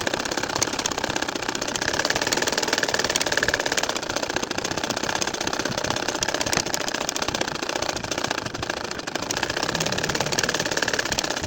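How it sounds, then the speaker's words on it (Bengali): A sewing machine stitching a nakshi kantha quilt, a loud, fast, even mechanical whir and clatter running throughout without pause. "এখন আর একটা লাইন আমি তোমাদেরকে সেলাই করে দেখাবো"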